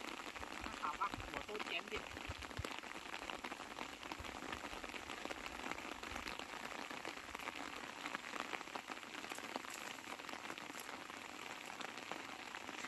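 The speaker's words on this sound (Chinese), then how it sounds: "下雨啊" Steady rain falls on a mountainside, a dense continuous patter heard close, with faint voices now and then beneath it.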